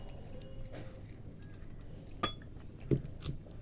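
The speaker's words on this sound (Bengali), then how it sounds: "এই দেখুন আমি এইভাবে সব কেটে নিচ্ছি কচুরলতিগুলোকে" A knife slices through taro stems (kochur loti) on a kitchen surface, giving a few faint, sparse clicks and taps, with two sharper contacts near the end and no talking.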